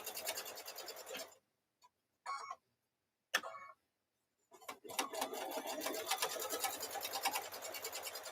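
Sewing machine stitching across a towel in bursts: a run of steady mechanical whirring, a few short starts and stops, then a longer continuous stitching stretch at close range, with no talk.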